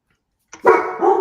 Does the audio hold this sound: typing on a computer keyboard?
no